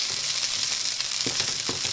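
Vidalia onions sizzle loudly in a hot pan for a frittata, a dense continuous crackling hiss with occasional soft stirring clicks, close and with no talk.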